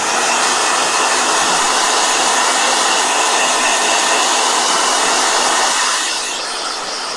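A blow dryer runs loud and steady for about six seconds, a constant close-up whir, then drops to a softer hum near the end with no talking.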